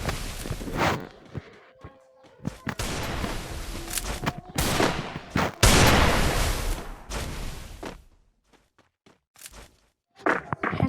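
Gunfire in a shooter video game: bursts of close, sharp shots and rattling volleys with brief gaps between them, plus a quiet stretch near the end before a few more shots.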